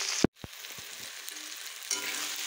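Small fish fry in a pan for a home-cooked meal: a faint, soft sizzle with a few sharp clicks and taps near the start, then a quiet, even hiss.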